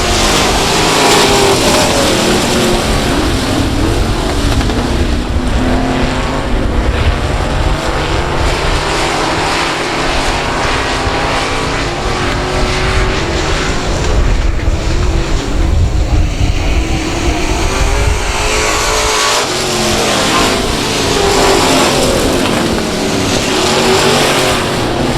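Race cars roar around South Texas Speedway, a dense, loud, continuous engine drone with pack noise rising and falling as cars pass, heard from trackside.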